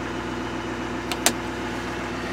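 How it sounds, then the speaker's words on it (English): A 2013 Chevy 2500HD LT Duramax diesel truck high idles on a cold day, a steady, low engine drone with two brief clicks partway through and no talking. "The truck is high idling up"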